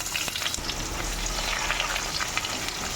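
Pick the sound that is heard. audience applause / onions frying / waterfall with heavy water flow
onions frying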